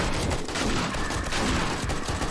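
Dense, continuous gunfire in the survival video game 7 Days To Die, rapid overlapping shots forming a loud, unbroken fusillade throughout.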